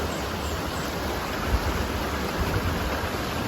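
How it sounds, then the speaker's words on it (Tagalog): A long river flowing steadily downhill from higher ground in Santiago, Iriga City, Camarines Sur, Philippines, giving a constant broadband rush of water, close and even, with no voices. "Sobrang habang ilog na to."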